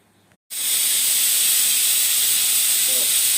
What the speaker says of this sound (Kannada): ಒಂದು ವಿಷಲ್ ಬಂತು ಕುಕ್ಕರೆ